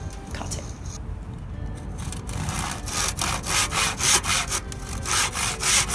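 Hand saw cutting timber for a garden coldframe, with steady back-and-forth strokes that grow louder and more rhythmic as the cut progresses, close up and with no talk over it.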